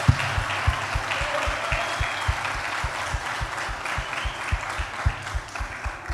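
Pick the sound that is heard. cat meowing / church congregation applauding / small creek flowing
church congregation applauding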